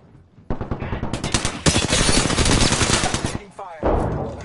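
Dense bursts of automatic gunfire in a PS4 battle-royale shooter, loud and sustained, rattling rapidly for several seconds with a short pause before another volley; faint game voice chatter sits underneath.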